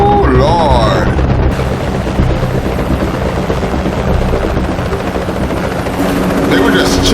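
A helicopter roars continuously through a TV show action scene, loud and close, its steady rotor thrum mixed with booms and impacts. Voices speak over it at the start and end.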